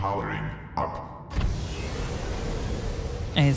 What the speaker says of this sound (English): Engine powering up.